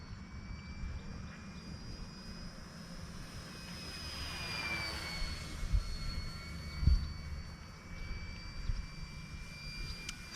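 A small RC Corsair model plane's electric motor runs at half throttle, giving a thin, steady high whine that swells and Doppler-shifts as it passes overhead, with wind buffeting the microphone.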